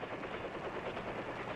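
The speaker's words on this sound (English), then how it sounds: "Often within minutes, air rescue helicopters are at the scene searching the area." Steady rotor drone of an air rescue helicopter searching over Vietnam-era combat terrain, a constant broadband chopping roar at moderate level with no pauses.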